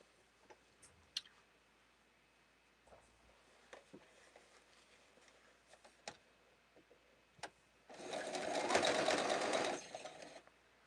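Sewing machine stitching patchwork quilt blocks in a quiet room, with scattered small clicks and handling taps before a single burst of fast, steady stitching of about two seconds near the end.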